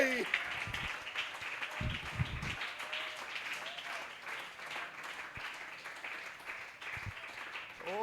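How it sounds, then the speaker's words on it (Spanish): Church congregation applauding during a worship service, steady moderate clapping that runs throughout, with voices speaking over it at times. "Alguien que le pueda dar un aplauso al Rey"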